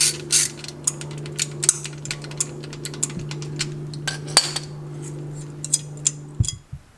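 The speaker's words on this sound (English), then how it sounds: "Alright, so I got these 2 bolts off." Bolts come off the axle differential cover of a 2017 or later Ford F250/F350 heavy-duty truck, giving sharp metallic clicks and clanks of tools and hardware at irregular intervals, close and fairly loud, with no talking.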